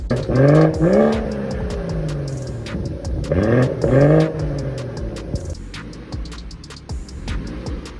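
A 2017 BMW M240i with a catless downpipe revs twice in sharp bursts, the exhaust rising and falling loudly up close, then settling into a rumbling idle.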